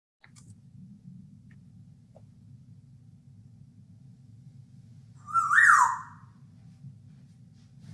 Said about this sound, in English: here's an example of a gray parrot called Einstein